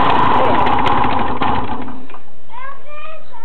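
Motostandard Super U6 motorcycle engine starting for the first time, a loud rough buzzing run for about two seconds that cuts off abruptly, followed by faint chirping sounds.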